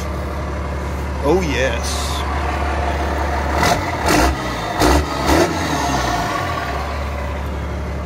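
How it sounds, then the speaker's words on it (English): A 5.9 Cummins 6BT diesel engine in a Defender 130 runs with a loud, steady, low drone. Brief high belt squeals chirp over it, and a few throttle blips follow while someone talks over the engine. "Still haven't got my belt squeal sorted. There it goes."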